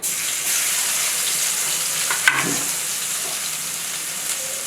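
Asafoetida and a ginger, garlic and chili paste hit hot oil in the pan, giving a steady close sizzle with a brief sharper crackle partway through as it is stirred, no voices over it.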